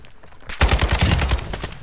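Rapid bursts of automatic gunfire from the video game Call of Duty: Modern Warfare II, loud and close, starting abruptly after a quiet moment and rattling on in a dense fusillade.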